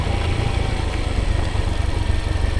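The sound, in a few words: motorcycle engine on rural road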